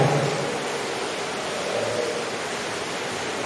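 Steady rain pours down continuously, a dense even hiss with no break, heard close by and alone.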